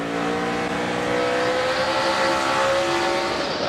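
NASCAR stock cars racing in the 2005 Chevy American Revolution 400, a loud, steady roar of engines held at high revs throughout, with the pitch slowly rising and falling as the pack drives by.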